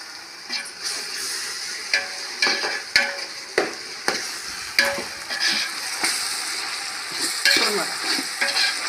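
Ginger garlic paste sizzles in a pan over an outdoor stove for country chicken biryani. A soft frying hiss runs under repeated sharp scraping and clanking strokes of a spoon stirring, close and with no talk.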